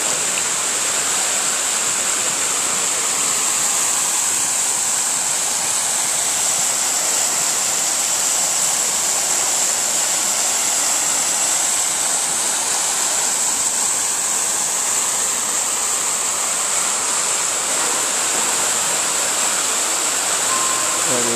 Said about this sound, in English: That is one tall waterfall.